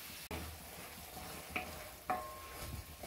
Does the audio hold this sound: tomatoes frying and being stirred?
yes